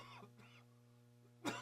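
A single short cough from an elderly man, 89, on a radio talk show, sharp and close near the end after a quiet stretch with faint throat sounds.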